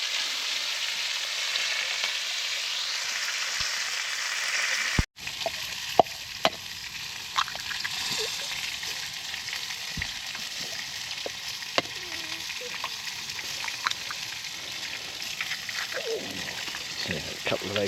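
Whole small tomatoes and a couple of sausages sizzle steadily in a pan at a woodland camp, a constant crackling hiss with a sharp clank near the start and a few faint pops and knocks later.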